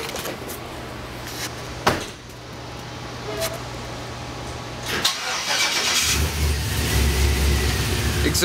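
A truck engine fitted with a Dynamax bullet exhaust, still untuned, cranks and catches, then settles into a loud, rough low idle that grows fuller toward the end. Voices talk briefly over the starting noise.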